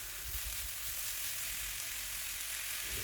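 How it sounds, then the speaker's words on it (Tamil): Banana flower and turmeric being stirred in a frying pan, giving a steady, close hiss of sizzling oil that holds evenly throughout, with no talk. "ரெண்டையும் போட்டுட்டு பிரட்டி விடுறேன்"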